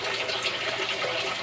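Water from a backyard aquaponic system with towers pours steadily into the sump tank, a constant close splashing rush with no pauses.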